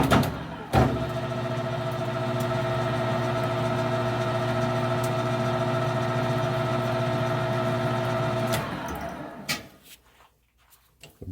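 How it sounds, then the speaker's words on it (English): A metal lathe runs steadily while a die held in the tailstock die holder cuts a thread, a constant mechanical hum with a few clicks and knocks, winding down and stopping near the end. "I'm just going to jog the lathe."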